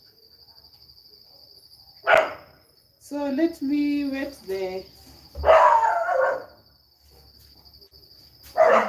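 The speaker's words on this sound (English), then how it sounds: "dogs are so noisy today." Dogs barking nearby in a rural garden during corn seedling planting, a few short bursts of barking amid constant insect chirping, with a person talking in between.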